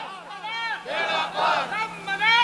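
A large crowd at a religious gathering roars a loud, swelling chant in answer to a Takbir slogan call, with waves of massed voices rising and falling over several seconds.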